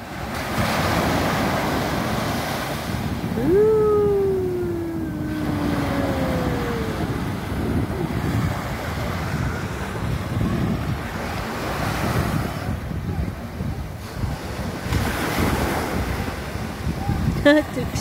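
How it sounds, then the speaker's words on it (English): Ocean surf rolls onto Nassau beach in the Bahamas, a steady, loud wash of breaking waves with wind buffeting the microphone throughout and a brief tonal sweep partway through. "Enjoy the waves of the Bahamas."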